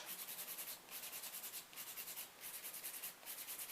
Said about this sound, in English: obviously me using the drill.